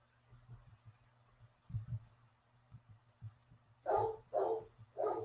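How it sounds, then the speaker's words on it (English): A dog barks three times in a row, loud and fairly close, following a stretch of low thumping and hum. "I'm sure you guys can hear my dog barking."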